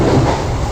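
Train running, heard from inside a carriage: a loud, close, steady low rumble with a faint rolling texture for under a second, no voices over it.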